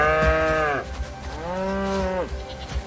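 Cattle moo twice in succession, one long low call followed by a second drawn-out moo, close and loud, as the herd moves around on a farm before rain.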